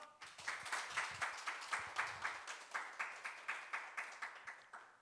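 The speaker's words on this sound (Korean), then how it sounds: "전북의 담대한 미래에 뜨거운 박수를 보내주십시오" Steady rhythmic clapping from a small audience at a joint campaign speech event for proportional representation candidates, heard on its own with no talk, in an even, regular beat.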